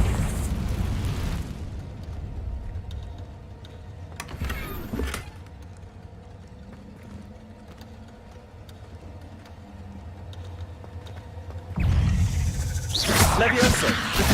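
Confringo spell blasts go off in the Hogwarts Legacy video game, one booming burst in the middle and a louder, rumbling eruption near the end, over a low game ambience.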